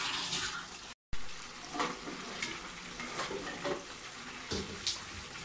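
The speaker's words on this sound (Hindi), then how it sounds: "उनको मैं फ्राई कर लूँगी, थोड़ा थोड़ा फ्राई करना है" Pieces of fish frying in a pan for a curry, giving a continuous soft sizzle with occasional louder crackles and stirring noises, heard close with no talk.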